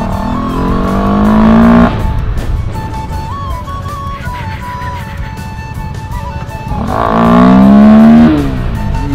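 A motorbike engine revs hard twice, rising to a loud roar near the start and again near the end with steady idling between, just after an air filter change, close and loud.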